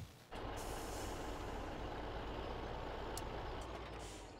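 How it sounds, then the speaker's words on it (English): Truck in the Farming Simulator 17 farming game, with a loud steady engine rumble and broadband drone running continuously after a brief quieter start, with no talk. "Seriously, the truck's going to get in the way."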